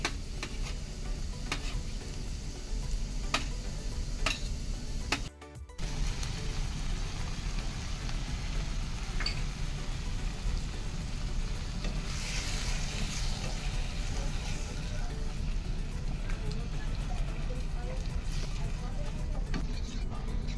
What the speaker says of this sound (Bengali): রসুন কুচিটা দিয়ে দিচ্ছি